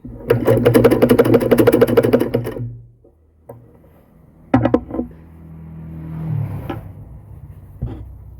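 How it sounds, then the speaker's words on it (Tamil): A sewing machine runs in a steady rapid burst while stitching a child's frock, then stops. Afterwards come quieter handling clicks and rustles of fabric. "ரெண்டுத்தையும் வந்து நல்லா ஸ்டிச் பண்ணி எடுத்தாச்சு."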